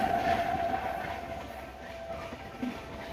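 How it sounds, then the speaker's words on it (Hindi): Busy railway station ambience at Rani Kamlapati Station: a continuous roar of a train running past with rail rumble, a steady tonal whine through the first second, and a faint clunk near the end, with no voices. "आवाज़ ज़्यादा है, रेलवे स्टेशन में है तो"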